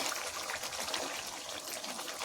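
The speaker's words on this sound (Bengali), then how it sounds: "এবার আমি জল দিয়ে দিচ্ছি।" Water pouring into a pot of chicken and potato curry, a soft steady trickling stream heard close and quiet without talk.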